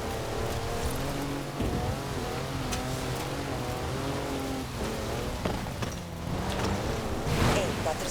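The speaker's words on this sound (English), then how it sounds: "That's a four-wheel drive car on mud tyres, completely sideways." A Mercedes 6x6 on mud tyres in the racing game Forza Horizon 4 drifts sideways, its engine droning and revving in wavering pitch, with tyre and gravel spray noise and a voice talking over it.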